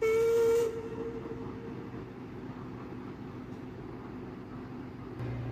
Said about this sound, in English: Duncan let out steam and puffed away